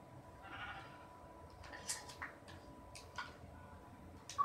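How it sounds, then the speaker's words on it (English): Sheep in the Minecraft survival game (Xbox One Edition) let out several short, fairly faint bleats in a loose sequence, mixed with small ticking clicks. "Now where's that black sheep?"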